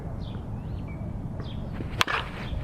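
A Headbanger Sports Exclusive one-piece Tantrum USSSA slowpitch bat strikes a softball once with a single sharp, crisp crack near the end, amid faint outdoor background noise and bird chirps.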